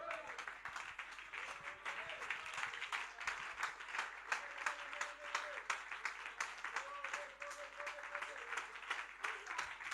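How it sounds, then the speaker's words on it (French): Applause and cheering from a French-speaking church congregation greeting a pastor, brisk clapping that swells and dips over ten seconds, with shouted voices and a sustained tone running underneath. "Donnez une main d'acclamation"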